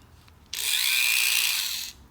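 A Dremel rotary tool cutting the tip off a self-drilling screw, one steady high-pitched grinding whine lasting about a second and a half, close and loud, starting and stopping abruptly in a quiet room.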